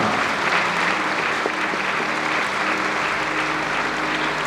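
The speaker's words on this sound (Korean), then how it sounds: "큰 박수로 축하해 주십시오" A congregation applauds at a pastors' ordination ceremony in a Korean church hall, a dense, loud, continuous wash of clapping throughout.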